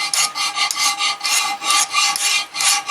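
A hand file rasps back and forth across a ground metal part of a Maytag model 72 gas engine, making a loud, close, steady rhythm of about a dozen strokes with no talking.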